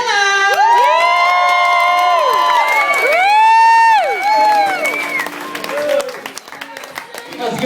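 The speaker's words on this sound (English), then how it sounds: "please make as much noise as you can for Dylan!" A small comedy club crowd cheers, whoops and claps loudly for a first-time stand-up comic, with long rising and falling shouts over scattered clapping that taper off toward the end.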